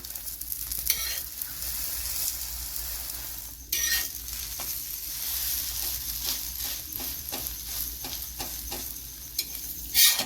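An egg omelette sizzles in a frying pan with a steady crackling hiss, broken by sharp scraping and stirring knocks from a spatula, close up and without talk.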